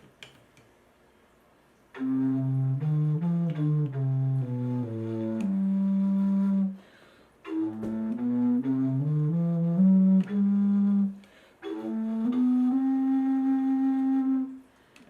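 A low, breathy contrabass recorder plays slow melodic phrases in three separate passages, with soft gaps between them and no talking.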